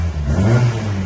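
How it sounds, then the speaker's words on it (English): A 1988 Ford Fiesta XR2 engine at a classic car sale gives a short, loud rev that swells and eases within about a second, close by with no talking. "Sweet sounding little engine."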